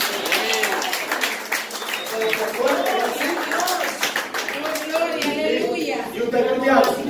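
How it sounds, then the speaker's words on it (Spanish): Church congregation clapping during an evangelical service, a steady patter of hands running under continuous talking from a preacher. "Ese era un aplauso por él."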